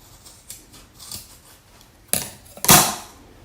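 Scissors snip through yarn being trimmed to length for a natural-hair protective style, a couple of faint clicks followed by two sharp, close cuts near the end.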